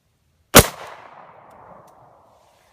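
A single sharp 9mm pistol shot fired with Winchester PDX-1 124 grain +P ammunition, a loud crack followed by a rolling echo that fades over about two seconds.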